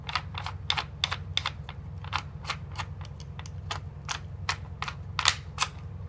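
A threaded barrel ring being unscrewed on an M4/M16-style receiver gives a run of sharp, evenly spaced clicks and ratchets, about twenty in six seconds, close and crisp over a low steady hum.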